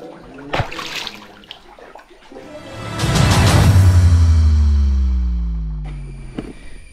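Water rushes out from a cave beside a temple linga, building from scattered splashes into a loud sustained gush that slowly fades, with a faint whistling tone at the end.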